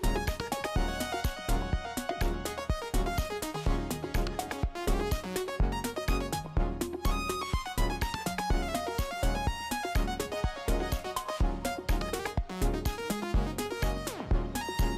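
A busy synthesizer line plays over a full backing track, with fast varied notes running continuously at moderate volume.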